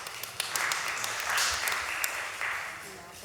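Scattered clapping from a small audience at a criminal justice reform committee meeting, light and uneven, with voices talking over it.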